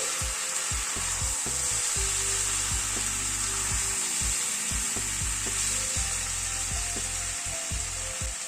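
Vegetable curry of winter vegetables with crushed roasted kasuri methi being stirred in a pan, a steady sizzle broken by repeated utensil scrapes and knocks against the pan.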